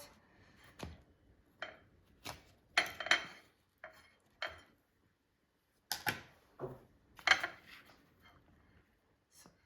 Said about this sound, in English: So I'll cut it to show you what's inside.